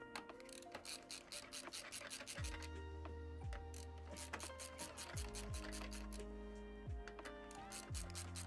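Screws being tightened down inside a PC case during a build give a steady run of close, rapid ratcheting clicks and metallic scraping. Repeated low thuds recur throughout, with no talk.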